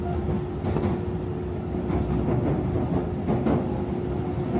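A commuter train in Japan near Komazawa-daigaku runs along the tracks with a steady rumble, a constant hum, and periodic rhythmic clacks of wheels over rail joints, heard from inside the car.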